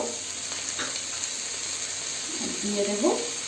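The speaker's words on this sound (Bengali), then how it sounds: "গ্যাসের ফ্লেম হাই রেখে এটা ফ্রাই করতে হবে।" Steady hiss of fried prawns and boneless chicken frying for Hakka noodles in a hot pan on high flame, with a brief scrape of utensils near the end.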